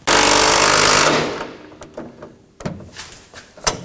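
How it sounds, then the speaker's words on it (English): An impact gun rattles in one loud burst of about a second while tightening nuts on the lower active grille shutter of a 2015-2020 Ford F-150, followed by several light clicks and knocks of handling. "we'll come on in with our impact gun and tighten them down"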